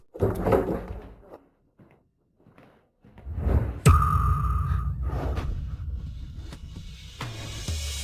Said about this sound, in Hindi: ये दरवाजा खुल क्यों नहीं रहा है?